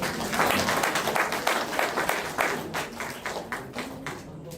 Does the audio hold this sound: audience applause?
yes